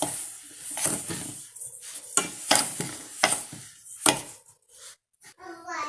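A spoon scrapes and swirls through thick rava uthappam batter in a bowl, with repeated close, gritty stirring strokes in an uneven rhythm before a short pause and faint trailing sound.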